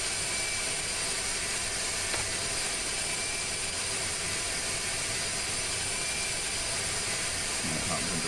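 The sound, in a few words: aircraft taking off in video game Kerbal Space Program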